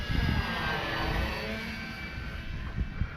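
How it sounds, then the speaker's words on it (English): An RC model Tecnam aircraft flying with a steady distant propeller drone and a faint high whine, over a broad outdoor wash of wind noise. "Good flying plane."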